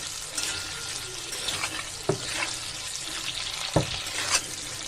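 Squash pieces added to a hot cooking pan sizzle and crackle steadily, with two sharp stirring clacks of a utensil against the pan.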